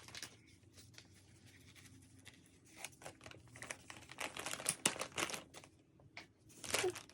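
Plastic snack packaging crinkles while snacks are packed for shipping, in faint, close, irregular rustles and crackles that swell into louder bursts toward the end, with no talk.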